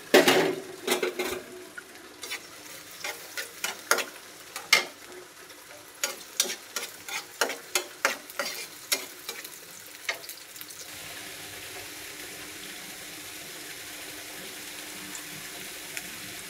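Chopped onion and garlic dropped into hot oil in a pan, with a run of sharp clattering stirs and scrapes early on, then settling into a steady, even sizzle near the microphone.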